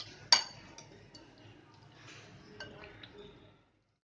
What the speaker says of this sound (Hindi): अब हम इसे मिक्स कर देंगे।